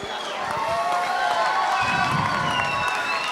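A fight night crowd cheers for two fighters in the ring, a steady wash of cheering and applause that swells slightly and holds at a loud level throughout.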